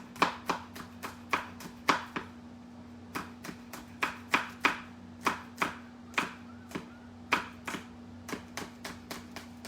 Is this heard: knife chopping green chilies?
yes